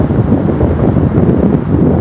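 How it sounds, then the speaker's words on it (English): Steady outdoor wind buffeting a microphone, a loud low rumbling roar that fills the whole stretch without pause and with no voices. "Just a little bit of wind coming through there."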